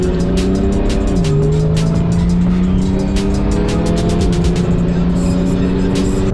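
A tuned Skoda Octavia 1.8 turbo, stage 2, pulls hard under power. Its steady engine tone climbs and holds loud and close throughout, and tire and road noise run underneath.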